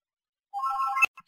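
A phone rings briefly: a short electronic melodic tone, fairly loud and close, cut off after about half a second and followed by a couple of faint clicks.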